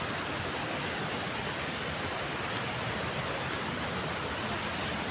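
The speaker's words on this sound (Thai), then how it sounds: "เสียงน้ำตก เสียงน้ำตกค่อนข้างที่จะดังมากๆเลย" The Tat Yueang waterfall roars with a loud, constant wash of rushing water that never lets up.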